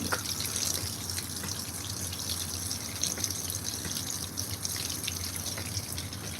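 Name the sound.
washing machine filling with water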